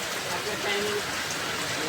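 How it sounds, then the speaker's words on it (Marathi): Heavy first rain of the season in Amboli hisses across the whole clip, a dense broadband wash with faint tonal sounds and a hint of voice mixed in. "आज आंबोलीतील पहिला पाऊस पडतो जोरदार"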